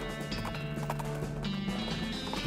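Horse hooves clip-clop in a steady rhythm in the video game West of Loathing, set against a continuous droning western music bed that stays level throughout.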